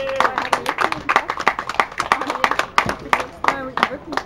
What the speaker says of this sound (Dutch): En uw applaus voor Ruben de Velder.